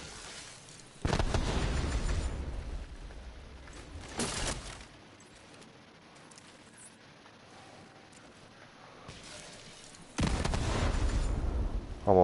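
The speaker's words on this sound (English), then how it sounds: "there's a lot more explosions going on around it" Explosions from explosive-delivery gear in The Division 2 video game boom in loud bursts at the start, around the four-second mark and again near the end. A quieter rumbling stretch sits between them, and no one talks.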